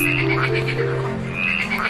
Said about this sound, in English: Frogs are excellent jumpers and have unique calls that vary from species to species.